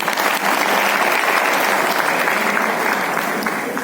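An audience claps at a poetry recital during an award ceremony. The applause is dense, steady and loud, with no voices over it for the full four seconds.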